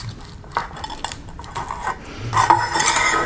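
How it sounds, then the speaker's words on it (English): A small basting brush butters a set of twelve metal baking tins, giving soft scraping and light metallic clinks and rattles that grow busier and louder toward the end, with no talking. "Works really good to butter these tins up as well."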